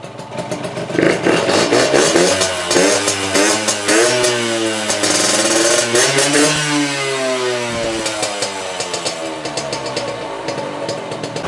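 A Yamaha YSR50 50cc mini motorcycle engine fires up and revs repeatedly, its buzzy pitch climbing and falling before settling into a steady high idle, loud and close.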